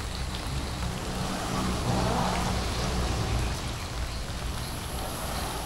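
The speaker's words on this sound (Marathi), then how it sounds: "आता तुफान पाऊस होतोय." Heavy monsoon rain pours nonstop over the Konkan countryside at dusk, a dense, steady roar of downpour that holds at an even loudness throughout, with no voices.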